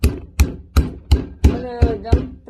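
Chicken meat pounded for schnitzel, seven loud, close, heavy thuds at an even beat of roughly three per second.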